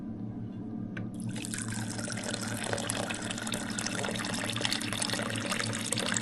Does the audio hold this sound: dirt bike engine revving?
no